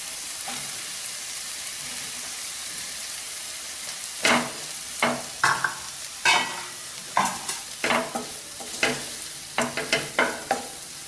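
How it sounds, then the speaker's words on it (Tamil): Rice being stirred into egg biryani in a pot, with a run of distinct scraping and clanking strokes from the ladle, loud and close, over a low background hiss; no talking. "இப்போ வந்து அரிசியை வந்து கொஞ்சம் கொஞ்சமாக சேர்த்து நீங்கள் கிண்டணும் சாதத்தை."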